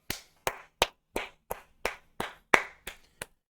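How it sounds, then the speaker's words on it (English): About ten sharp claps come at a steady, slightly uneven pace from a single nearby person, with short silent gaps between them. "let's go ahead and clap it up"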